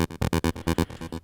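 Plain square wave from a Serum software synthesizer with all effects removed, played as a choppy run of about ten short, evenly spaced buzzy notes, loud and dry with no voices.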